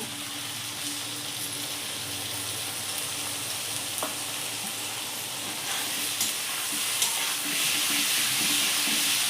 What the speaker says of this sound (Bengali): এবার আমি এই মশলাটাকে দিয়ে দেব।